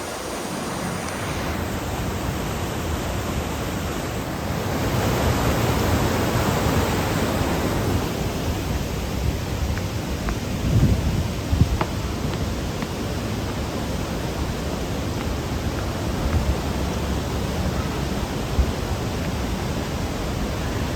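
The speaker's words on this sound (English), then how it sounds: "There's a waterfall. Going down, all the way down that rock right there." A waterfall at Watkins Glen State Park, where water drops down a rock face, heard as a steady, loud broadband rush that continues for about twenty seconds with no talking.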